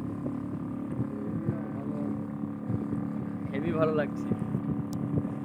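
A boat's motor drones steadily as it speeds across Kalyani lake, with wind buffeting the microphone, while someone talks over the engine noise.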